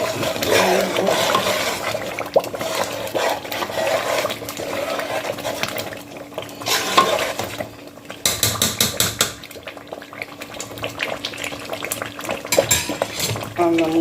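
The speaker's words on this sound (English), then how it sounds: "the seasoning, and Maggi all together. I'm going to stir it." A Nigerian turkey stew with curry, thyme, nutmeg, seasoning and Maggi gets stirred in a pot, with a spoon scraping and clinking against the metal over a bubbling simmer, bursts of stirring coming and going.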